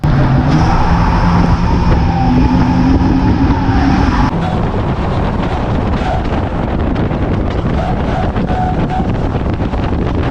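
Race cars roar loudly through the opening corners of a race, engines droning and shifting amid heavy wind buffeting, with one car's pitch dropping sharply partway through.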